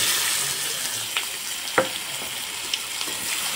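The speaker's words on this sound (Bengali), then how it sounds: "এখন দিয়ে দেব বড় সাইজের একটা পেঁয়াজ কুচি" Chopped onion, a large one, frying in oil with cumin and two bay leaves in a pan, giving a steady close sizzle with occasional stirring clicks and pops, no voices.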